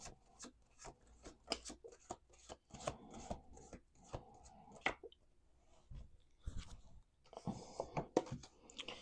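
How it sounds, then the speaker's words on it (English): Playing cards are shuffled by hand during a tarot reading, a series of quick crisp riffles and slaps in irregular bursts, close and fairly quiet, with short pauses between them. "Two more shuffles."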